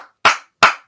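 Crowd clapping at a 76ers versus Nets basketball game, heard as two sharp, loud hand-clap bursts about 0.4 seconds apart, each fading quickly with no voices.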